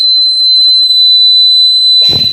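A girl whistles one long, steady, high note, held clear and loud for about two seconds before it breaks off into a short burst of noise.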